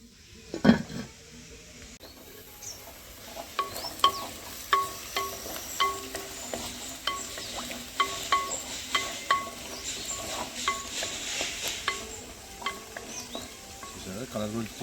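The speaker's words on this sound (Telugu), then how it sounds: "ఆనియన్ మంచిగా ఫ్రై అయిపోతుంది." Onions fry and are stirred in a pan, giving a soft sizzle throughout and a regular series of sharp scraping and clinking strokes against the metal, close and moderately loud.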